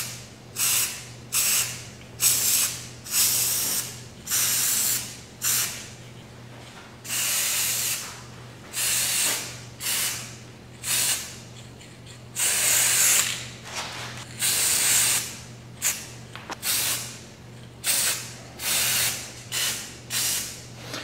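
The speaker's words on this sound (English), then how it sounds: "So I walk all around so I can spray on every angle of it." Metallic flake spray paint hisses in repeated short bursts, each lasting a second or two with brief pauses between, close and steady over a faint background hum.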